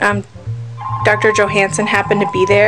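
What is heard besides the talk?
phone ringing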